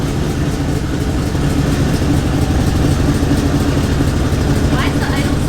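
A Toyota 1UZ V8 swapped into a Nissan S14 idles low and rough with a steady rumble close by, while people talk over it.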